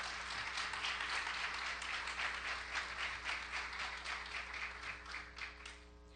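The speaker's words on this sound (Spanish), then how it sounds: "vila, presidente de la Sala Regional Xalapa, para quien pido un aplauso" Applause from a conference audience at an electoral tribunal regional chamber event in Xalapa, steady dense clapping filling the room throughout, then thinning slightly toward the end.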